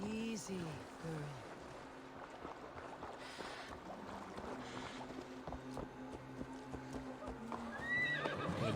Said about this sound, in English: Your horse is a little unsettled, but safe.